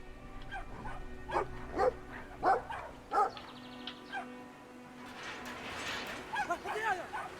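Barking dog in the video game Brothers: A Tale of Two Sons, three or four sharp barks spaced about a second apart over game music, with someone talking in Turkish around them.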